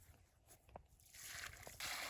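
Water from a bucket is poured onto the soil around a newly planted tree, a faint trickle that swells into a steady, sloshing gush near the end.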